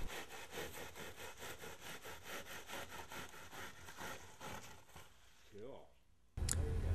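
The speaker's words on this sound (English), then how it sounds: "While one person runs the screed over the side forms, another can remove the excess material from in front of the screed." A screed scraped over side forms to level wet concrete for a countertop, a rhythmic back-and-forth rasp repeating steadily for about five seconds before fading, followed by a brief louder clatter, with talk heard over it.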